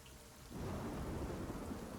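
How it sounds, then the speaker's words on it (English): A heavy thunderstorm, with rain suddenly swelling into a dense, loud downpour as a low rumble of thunder rolls underneath, with no voices present. "The sound of thunder begins to echo from the lightning, seemingly right on top of each other."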